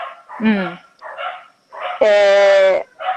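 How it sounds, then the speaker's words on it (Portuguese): An excited dog barks a few times at someone arriving, loud and close, with a long sustained bark-like howl in the middle and a person talking around it. "ele vai latir, porque agora o cara tá chegando e ele late ele tá animado"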